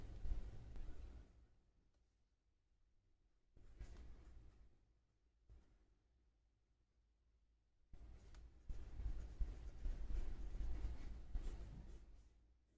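A pencil drawing an acute angle along a protractor's edge: faint, close scratching in three bursts separated by quiet pauses, the last burst longest.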